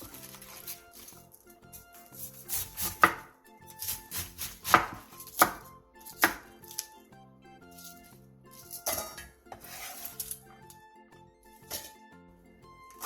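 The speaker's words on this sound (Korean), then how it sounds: "양배추 4분의 1개를 먹기 좋게 한입 크기로 잘라주세요" A knife chops a quarter head of cabbage into bite-size pieces on a cutting board, a loose run of crisp, irregular taps over soft background music.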